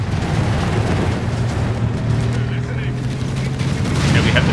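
Gunfire from a machine gun team in Company of Heroes 3 during a desert battle, with steady rattling bursts and booming impacts beneath a player's voice.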